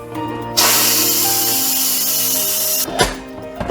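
Steam hissing from a pressure cooker quick release, a loud continuous rushing hiss that starts abruptly and holds for over two seconds before cutting off, followed by a few clunks.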